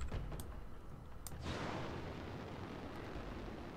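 Weapon fire in the BattleTech game RogueTech lands in a few quick bursts, then a broad, sustained roaring blast takes over and holds steady, with no voices.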